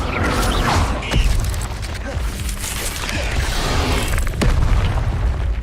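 Incendio fire spells blast in Hogwarts Legacy as a string of loud, close booms and bursts recurs every second or so over a continuous crackling, rumbling roar of magical combat.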